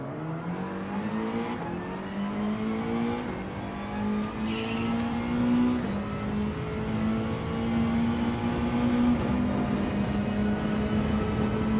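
A Mazda race car laps a track in Gran Turismo 7, its engine droning steadily and loudly, rising and falling in pitch through the gear changes, with faint shift blips and no talking.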